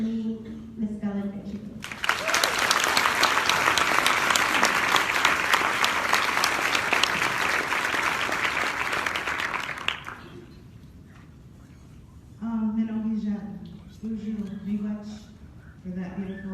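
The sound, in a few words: audience applause welcoming keynote speaker at conference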